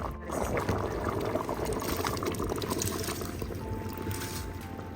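Seeraga samba rice pours into water for mutton biryani in a continuous rushing, splashing patter that lasts several seconds, fairly close and steady.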